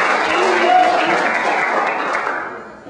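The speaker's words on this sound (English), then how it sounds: "Give yourselves a round of applause." A college audience at Alvernia College claps and cheers for performers, a loud continuous wash of applause and crowd noise that gradually eases off over about three seconds.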